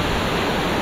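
Rushing water cascades down a waterfall in Lovina, Bali, a dense, steady roar close by with no break, alone without voices.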